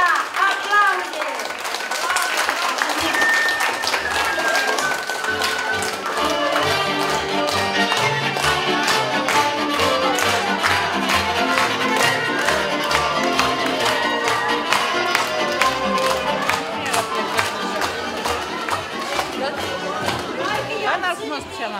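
Audience at a Saint Andrew's Day folk gathering in Cimișlia applauding a taraf band's performers, sustained rhythmic clapping mixed with crowd chatter and voices throughout.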